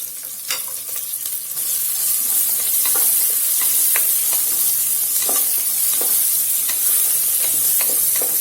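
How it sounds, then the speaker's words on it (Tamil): Chopped onions and green chillies sauté in a hot pan with a loud, continuous sizzle. Scattered clicks of stirring run through it, and no voices are heard. "இப்போ நம்ம கட் பண்ணி வச்சிருக்கிற வெங்காயம், பச்சை மிளகாவை போட்டு கொஞ்சம் பொன்னிறமா வதங்குற வரைக்கும் நம்ம வதக்கி விட்டுக்கலாம்"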